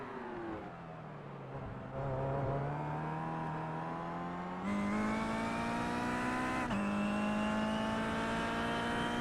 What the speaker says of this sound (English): We'll listen in on his engine sound.